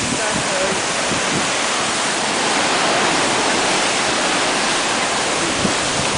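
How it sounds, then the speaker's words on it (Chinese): Sea waves rushing, heard from aboard a boat on a clear day, a loud steady broadband wash of surf and wind noise that fills the whole stretch without a break. "然后那个海声刷刷的"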